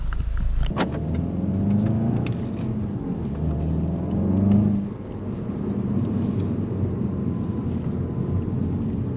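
A 2022 Volkswagen Golf GTI SE drives downhill, its engine note rising and falling with gear changes under steady road and wind noise heard from inside the car.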